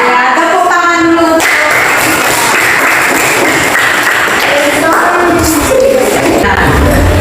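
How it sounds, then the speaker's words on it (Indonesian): A school class claps hands together in a classroom, loud and close, a dense burst of clapping with some chatter and tonal noise mixed in, continuing throughout. "Ya, tepuk tangan dulu."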